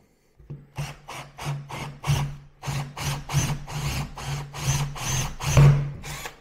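Close-up drilling of a second hole through a wooden door: a series of short, uneven bursts of grinding with a steady motor whine, stopping and starting about a dozen times.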